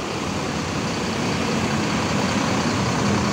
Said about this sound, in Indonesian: Ini mesin busnya juga masih menyala